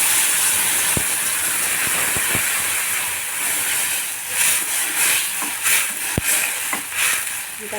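Water with turmeric heats in a pot for a tamarind dish, a steady close steamy hiss and simmer that runs without a break, with a couple of sharp clicks of utensils, and nobody speaks.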